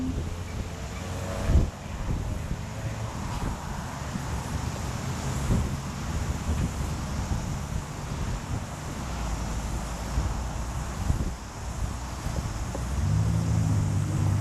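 Steady, heavy wind rushing and buffeting against the microphone, a constant low roar with occasional gusty thumps throughout.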